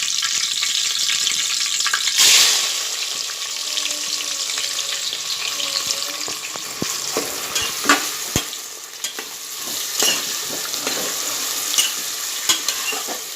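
Sliced onions frying in hot oil in a pressure cooker with whole garam masala and bay leaf, a loud continuous sizzle up close with intermittent spoon scrapes and taps as they are stirred.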